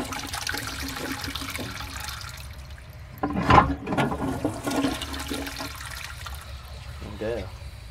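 An old bell siphon cistern toilet flushes, a sudden loud rush of water surging down the original flush pipe and then trailing off into trickling and refilling.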